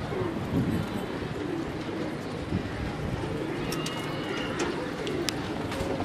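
Pigeons at a pigeon loft coo in low, throaty, repeated calls soon after being let out. The cooing is moderately close and continuous, with occasional brief chirps over a soft ambient background.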